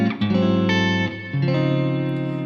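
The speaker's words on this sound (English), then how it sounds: "Then I add a little bit of reverb." Clean electric guitar chords with a touch of reverb, a few mellow voicings changing in quick succession, ringing smoothly with no voices over them.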